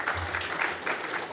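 Applause from a mining club audience welcoming a presenter to the stage, a steady dense patter of clapping hands lasting the whole moment at moderate loudness.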